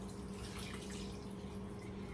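Water pouring into a pot of pork rib sinigang, a faint, steady trickling wash with no voices.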